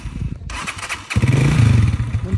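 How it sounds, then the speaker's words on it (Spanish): A motorcycle engine cranks and catches, settling into a loud, close, throbbing idle after a brief mechanical clatter. "Don Dupeto, pero dicen que es mía esta moto"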